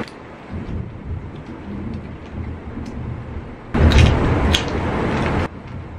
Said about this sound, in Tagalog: malakas po talagang ulan ngayon